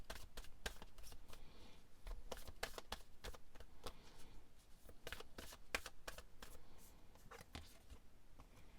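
Oracle cards shuffled by hand, a steady run of soft, rapid riffling flicks close up and quiet throughout.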